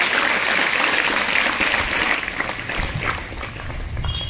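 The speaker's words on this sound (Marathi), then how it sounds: "विद्यार्थ्यांनी जोरदार टाळ्या वाजवून सरांचे आभार मानते" Students at a junior college event give loud, sustained applause in a hall, a dense steady clapping that eases slightly toward the end.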